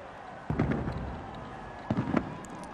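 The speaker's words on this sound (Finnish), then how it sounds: "Ja myös pimeätä tarkoituksella, jotta nuo ilotulitteet pääsevät oikeuksensa." Fireworks over Helsinki at the New Year 2000 celebration, heard from the Senate Square and Market Square waterfront area: two booming bursts with crackling tails, about a second and a half apart, over a low outdoor hum.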